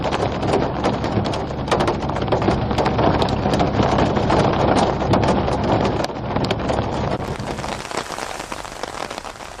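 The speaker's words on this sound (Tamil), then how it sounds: "ஜம்மு காஷ்மீரின் ரம்பன் பகுதியில் கனமழையுடன் ஆங்காங்கே பொழியும் ஆலங்கட்டி மழை." Heavy rain mixed with hail pours down in Ramban, Jammu and Kashmir, a loud, dense, continuous patter of drops and scattered sharp hailstone hits on surfaces, fading somewhat near the end.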